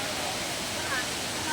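River water rushes near Hulugan Falls in a forest setting, a steady broadband roar filling the short stretch at moderate level, with faint voices in the background.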